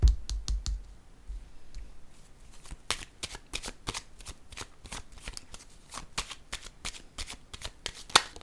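Tarot cards shuffled and drawn by hand, a dense run of crisp riffling flicks and taps, loud and close, with a brief louder burst at the start and no talk.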